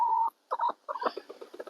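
A backyard chicken in winter snow gives close, loud clucks: a sustained note, a short pair, then a run of quicker, softer clucks trailing off.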